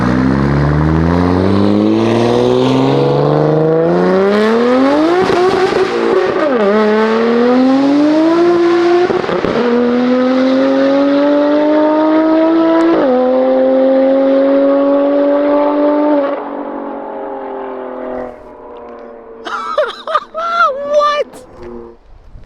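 A BMW M4 engine revving loudly up close in repeated long climbing pulls, each rising in pitch and dropping back between shifts, ending in a few sharp blips and crackles.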